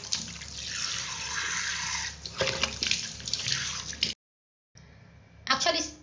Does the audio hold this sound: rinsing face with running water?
yes